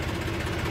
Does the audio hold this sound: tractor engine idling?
yes